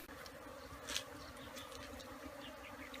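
Faint, steady buzzing of bees hovering around a beehive being cleaned out outdoors, a continuous low drone with a few brief nearer passes, no speech.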